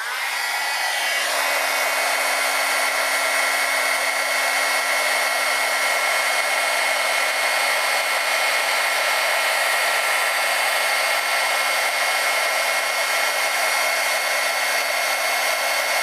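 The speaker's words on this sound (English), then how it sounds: "We need our heat gun." A heat gun blows with a steady, loud whooshing roar and a faint constant whine while heating a craft surface, running without a break from start to end.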